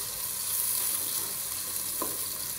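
Onions frying in a pan for a desi home-cooked dish, a faint, steady low sizzle with one brief clink near the end, no talk.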